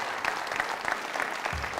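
An audience cheers and applauds at a public-safety event, a steady wash of clapping with scattered shouts, moderately loud and continuous throughout.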